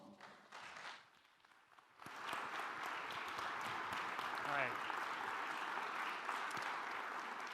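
After a short spoken bit, an audience at a university event in Morris, Minnesota breaks into sustained, moderately loud applause, with a voice briefly heard over the clapping.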